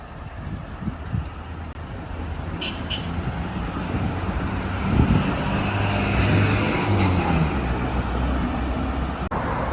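Street traffic rumbles steadily at a bus stop in Muscat, Oman, with vehicles passing close by and brief higher-pitched squeals over a continuous low roar.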